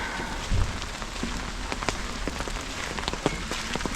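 Light rain patters down steadily outdoors near a bay and a cathedral, with scattered crisp drops ticking on nearby surfaces over a soft, constant wash; close and fairly quiet, with no voices.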